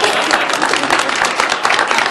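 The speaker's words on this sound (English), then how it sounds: "You can clap for that." A council meeting audience breaks into applause for a police officer who has passed probation, a dense, steady patter of many hands clapping throughout, fairly close and loud.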